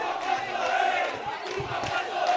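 Futsal fans of CSA roaring and cheering as a crowd after the final of the Alagoas championship, a steady dense wash of voices with a few louder shouts rising through it.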